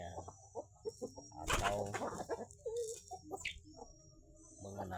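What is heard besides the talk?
free-range village chickens clucking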